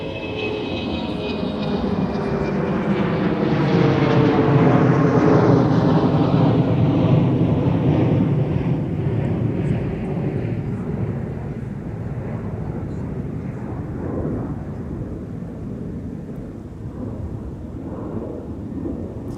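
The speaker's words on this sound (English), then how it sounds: "Here's a McDonnell Douglas MD-95 Boeing 717 departing off 30 left." A McDonnell Douglas MD-95 / Boeing 717 departs runway 30 left at Minneapolis–St. Paul airport, its jet roar loud and close, rising to a peak and then sweeping away in a long, steady rumble that slowly fades.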